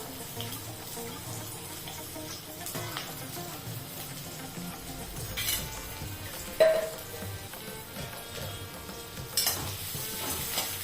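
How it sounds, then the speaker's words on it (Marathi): Thin-sliced onion being sautéed in a pan for a masala paste, a steady soft sizzle with scraping stirs and an occasional clink of the spatula, no voices. "छान परतू द्यायचा"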